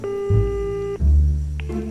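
In the horror game Pamali, a phone call rings unanswered. A steady electronic ringback tone sounds for about a second over a low hum, stops briefly, then returns as a lower tone near the end.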